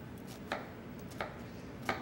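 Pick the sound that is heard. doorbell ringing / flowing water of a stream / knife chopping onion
knife chopping onion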